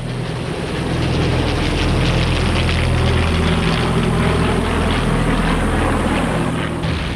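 WWII Allied fighter-bomber propeller aircraft in flight: a loud, steady droning engine roar that swells in after the first second and holds throughout without any voices.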